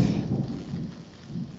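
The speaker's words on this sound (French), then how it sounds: "Ici, l'orage gronde, j'ai des éclairs de partout, le tonnerre tonne et la tempête arrive." A thunderstorm fills the air with a continuous low rumble of thunder over a steady wash of rain, heavy and unbroken for a brief stretch.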